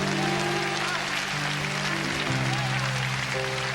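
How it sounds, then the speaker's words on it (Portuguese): Dense, continuous applause from a crowd at a church service, with sustained organ-like musical tones underneath. "Será que você pode aplaudir ao Senhor nesta manhã?"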